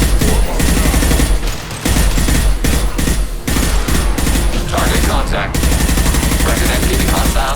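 Dense, loud gunfire from the Mass Effect 2 Legendary Edition video game, rapid automatic bursts and overlapping shots with brief gaps, mixed with mechanical clatter and game effects throughout.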